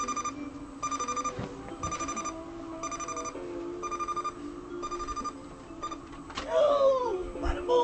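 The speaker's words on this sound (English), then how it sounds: "and the alarm sounded." An alarm rings in repeated short beeping bursts at a steady pace, moderately loud against background hum, with a voice speaking briefly near the end.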